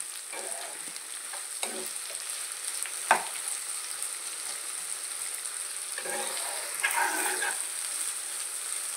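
Onions with a bay leaf frying in a pan for a curry: a steady, close sizzle runs throughout, broken by several scraping stirs of the spatula, with a busier, louder stretch of stirring near the end.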